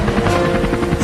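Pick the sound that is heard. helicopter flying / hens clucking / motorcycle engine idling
helicopter flying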